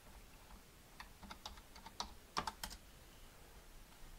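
Keys tapped on a computer keyboard while entering a terminal command on an Orange Pi 5, a short burst of quiet, uneven clicks with a few sharper strikes near the middle, faint and close.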